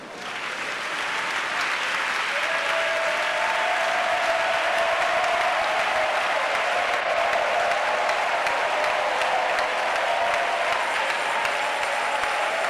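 A congregation at a night prayer gathering breaks into sustained, loud applause, dense clapping from a crowd that holds steady throughout.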